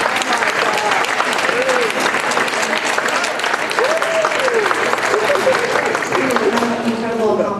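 An audience applauds national semifinalists at an evening ceremony, loud sustained clapping throughout, with voices and a few cheers heard faintly under the clapping.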